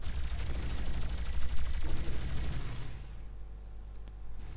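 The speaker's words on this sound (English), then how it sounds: "I never realised you could use a shotgun that fast, Doom guy, but never mind." Rapid shotgun blasts from the video game Doom, close and loud, give a dense run of booming shots with clicks that stops abruptly, leaving only a faint game background.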